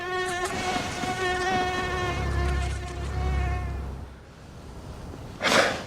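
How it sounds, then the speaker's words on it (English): A mosquito's thin, droning whine with many overtones hums steadily for about four seconds, close and fairly loud, then fades, followed by a short burst of noise at the end. "Just its buzzing can make you itchy right away."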